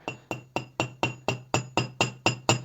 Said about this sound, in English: So we put this here, and then with the hammer,